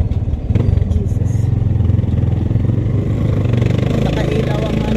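A motorcycle rides through heavy rain in darkness, its engine a steady, loud, close drone with a brief clatter at the start, while a person's voice is faintly present.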